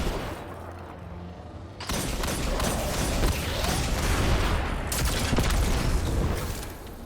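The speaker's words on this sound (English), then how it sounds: "You may have noticed that explosion." Dense, noisy Destiny 2 game action with a sudden loud burst of booming blasts and crackling debris from a Sundering Blast explosion that keeps rumbling and rattling continuously.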